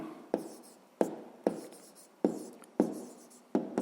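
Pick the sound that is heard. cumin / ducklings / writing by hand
writing by hand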